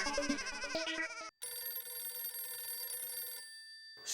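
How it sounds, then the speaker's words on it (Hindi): A telephone rings with a bright electronic ringtone, a melodic burst followed by a steady sustained ring, then a brief pause and another ring starting. "सेठ धनराज सिंघानिया जी का फोन"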